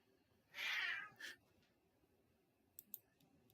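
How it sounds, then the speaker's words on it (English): A house cat gives one clear meow followed by a shorter second note, close and fairly loud in a quiet room, with a few faint clicks afterward. "The cat's about to meow."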